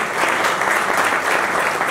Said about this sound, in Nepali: गोपाल रसाइली गाइसबाट एउटा जोरदार ताली